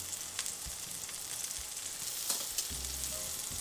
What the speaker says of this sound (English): it's sizzling in olive oil